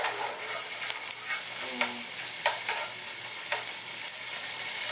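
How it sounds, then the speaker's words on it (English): Pork sautéing in a pan, giving a steady close sizzle and hiss of frying fat with a few scrapes and clinks of stirring and no talk. "And saute and spread all pork oil."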